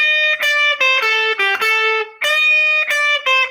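Electric blues guitar played through distortion, with plucked notes and a string bend sliding to a pitch slightly off the target note, in several close, sustained, ringing phrases.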